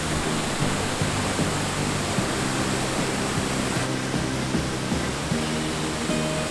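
Steady roar of a waterfall, loud and close, a dense continuous rush of falling water with no voices.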